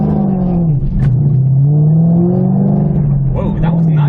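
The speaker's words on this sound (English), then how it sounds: "you put it into gear and you just rev it all the way up" A Shelby's engine held high and steady under launch control in gear at full throttle, a loud continuous rev that dips briefly and climbs again, close to the car.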